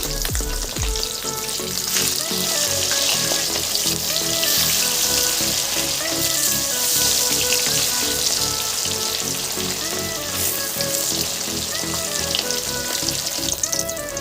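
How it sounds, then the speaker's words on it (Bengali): Katla fish pieces fry lightly in hot oil in a pan, turned side to side, giving a loud, continuous close sizzle and crackle with occasional soft clinks and no talking. "এখানে কিন্তু মাছটা বেশি কড়া করে ভাজতে হবে না, খুব হালকা করে এপিট ওপিট করে ভেজে নেব"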